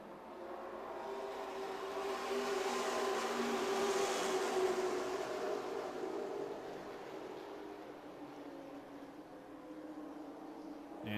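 Late model race cars roar around the Music City Motorplex oval in Nashville, the engine note swelling as the pack approaches, peaking, then fading into the distance, faint overall and with no voices over it.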